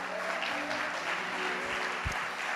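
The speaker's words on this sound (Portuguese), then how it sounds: "Um aplauso" Congregation applauding during a church service, a steady moderate wash of many hands clapping at an even level, with a faint low voice or thump briefly surfacing near the end.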